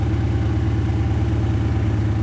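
A VW Amarok sound booster plays a synthetic engine tone, a steady, loud, low droning hum with an even pulsing throb, close and unbroken, without talk.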